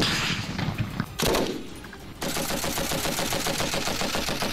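Rapid automatic gunfire at a military weapons training range, loud sustained bursts with a short pause, then steady continuous firing alongside heavy thumps.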